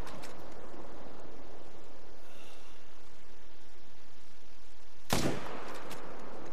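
A single loud rifle gunshot in theHunter: Call of the Wild, a sharp crack near the end that follows a quiet stretch of faint outdoor ambience.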